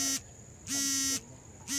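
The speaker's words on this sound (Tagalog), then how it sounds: "Oh, sabi ng alarm." A phone alarm beeps in loud, steady pulses of a high electronic tone, each about half a second long, repeating with short gaps.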